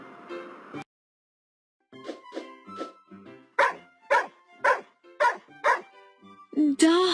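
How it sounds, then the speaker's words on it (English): A dog barks in a series of about eight sharp, close barks at a steady rhythm, followed by a brief higher whine. "Dog, dog."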